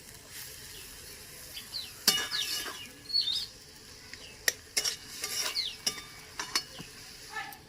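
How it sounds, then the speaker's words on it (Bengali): A spoon stirs cooked taro stem curry with coconut in a pan, producing soft intermittent scrapes and light clinks over a faint background simmer, with no voices. "দেখো রান্না হয়ে গেছে, এবার নাড়িয়ে হবে"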